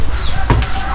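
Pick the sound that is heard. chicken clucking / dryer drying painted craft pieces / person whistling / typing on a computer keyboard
chicken clucking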